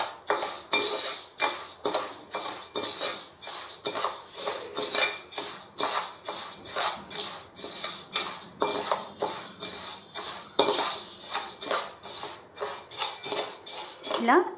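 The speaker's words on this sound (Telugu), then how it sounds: "ఇప్పుడు మనం రైస్ని డ్రై రోస్ట్ చేయాలన్నమాట, అలానే పెసరపప్పు కూడా అండి" Rice and moong dal dry-roasting in a pan, stirred with a metal spoon in rapid repeated scrapes and clinks against the pan, close and fairly loud, with a voice talking at times.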